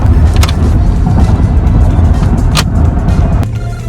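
A new car's engine and road noise hum at a steady loud drone while driving on a test drive, with a couple of brief clicks and a slight drop near the end, no speech.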